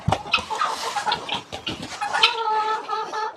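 Chickens on a village farm cluck and murmur continuously in a snowy winter yard, several birds close by with overlapping clucks and a few sharper calls, no talking.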